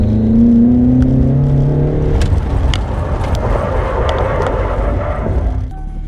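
A car drives on the way to a big empty parking lot, a steady loud engine drone and road rumble with a falling whine at first and a few faint clicks.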